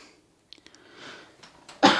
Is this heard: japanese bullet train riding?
no